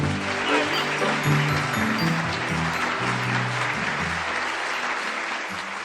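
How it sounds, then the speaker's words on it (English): Audience members clap as a lecturer on power and imprisonment walks in front of the group, a steady, broad round of applause that tapers slightly at the end, with murmured voices beneath. "Thanks for the applause."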